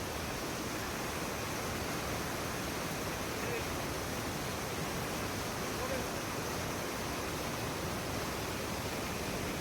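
Steady, full-bodied roar of a waterfall at Karumalai estate in Valparai, a constant broadband rush of falling water heard close up with no pauses.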